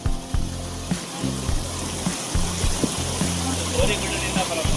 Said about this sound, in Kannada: ಇಲ್ಲಿಂದ ಬರ್ತಾ ಇದೆ, ಇಲ್ಲಿಂದ ಹಿಂಗೆ ಹೋಗುತ್ತೆ, ಕೆಳಗಡೆ ಹೋಗುತ್ತೆ ನೀರು.